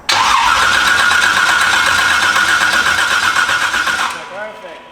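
A supercharged big block engine in a donk car cranks and fires for its first start, a loud rough roar that runs steadily for several seconds, then cuts off abruptly.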